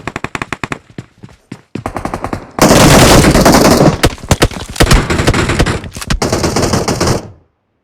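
Loud, close gunfire in PUBG Mobile: rapid automatic bursts and single shots, one long sustained burst in the middle, then more clipped volleys before it stops.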